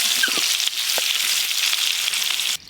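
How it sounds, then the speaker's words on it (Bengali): New potatoes slowly frying in a pan for aloo dum, a dense steady sizzle with faint clinks near the start, close and continuous until it drops off abruptly near the end, with no talking. "এই দেখুন আলুগুলো কি সুন্দর ধীরে ধীরে ভাজা হচ্ছে।"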